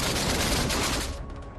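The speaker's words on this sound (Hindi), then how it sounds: "रुक नहीं रहे चीनी सेनाओं के धमाके" Military gunfire and explosions from Chinese army live-fire drills in the sea near Taiwan, a dense, loud continuous roar of blasts and shots that eases off slightly near the end.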